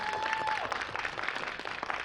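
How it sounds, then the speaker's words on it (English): An audience at a Haitian history bee finals applauds, a dense patter of clapping throughout that stays fairly quiet and even, with a brief tone near the start. "Y'all gotta clap louder than that."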